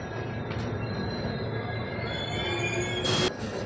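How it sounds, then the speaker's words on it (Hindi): The Ranthambore Express pulls out of Lakheri station with a low rolling rumble and brief high wheel squeals near the end, fairly faint overall. "अपनी रणथंभौर एक्सप्रेस लाखेरी से रवाना हो गई है"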